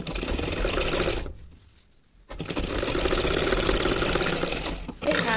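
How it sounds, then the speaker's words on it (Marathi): A sewing machine stitches a baby petticoat, running in a loud, fast, steady mechanical whir, then pausing for about a second before starting up again and running on. "तर आता मी सेंटर पॉईंटपासून असं शिलाई घालायला सुरू करत आहे."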